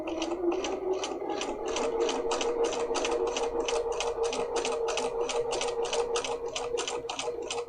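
Bernina 300 series sewing machine stitching in a zipper, running steadily at a fast, even pace, with a continuous rapid ticking rhythm of needle strokes, close and clear throughout.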